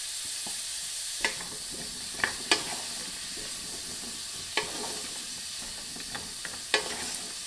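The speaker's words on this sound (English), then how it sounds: "we're just gonna saute them just a little bit" Fresh green beans sautéing in a skillet make a steady soft sizzle, with scattered sharper crackles and pops as they hit the hot pan and are stirred, close and with no talk.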